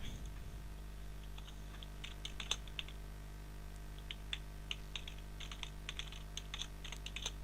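Rapid, irregular keystrokes on a computer keyboard patter in clustered bursts, close and fairly quiet over a steady low hum, with no voices.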